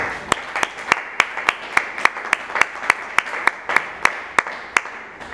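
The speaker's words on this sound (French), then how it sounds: "je vous produis d'applaudir très fort, encore une fois, pour cette prouesse littéraire" An audience at a literary book presentation claps in unison, sharp, evenly spaced beats about three per second over a low murmur of the room, sustained throughout.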